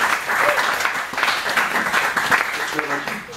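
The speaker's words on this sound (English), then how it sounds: "Can I have a round of applause?" A room of attendees at a venture capital startup pitch event gives brief, steady applause. Voices mix in near the end of the clapping.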